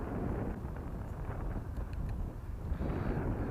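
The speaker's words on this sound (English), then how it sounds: "Oh, it's gusting up now." Strong gusts buffet an outdoor microphone at an RC flying field where a small four-motor model aircraft is being tested, giving a constant loud roaring rumble with slight surges and no speech.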